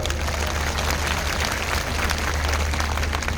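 Loud, sustained applause from a large audience at a Gandhinagar community gathering, a dense steady wash of clapping filling the room with no talk over it.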